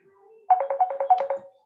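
A phone ringtone plays an incoming-call melody of about ten quick, evenly spaced electronic tones after a faint lead-in, loud and alone.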